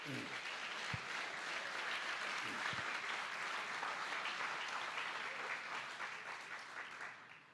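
A congregation at a Christmas church service claps in praise, a full, continuous wash of applause that opens with a few louder claps and thuds and fades slightly at the very end.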